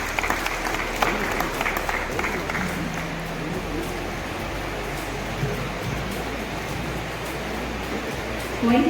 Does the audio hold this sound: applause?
yes